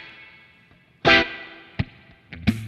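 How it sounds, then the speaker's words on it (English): An electric guitar played through a Kemper Profiler with a 60s-70s style spring reverb gives a few struck chords, each followed by a splashy, ringing reverb tail, loud and close. "70s style spring reverb"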